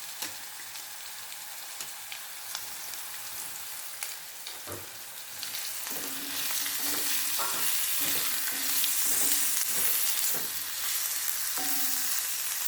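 Ginger garlic paste and coriander powder fry in a pan for a home lunch, with a steady sizzle growing louder midway and a spoon scraping and stirring in short strokes, no voices.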